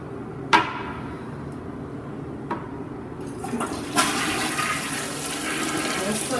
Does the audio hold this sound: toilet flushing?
yes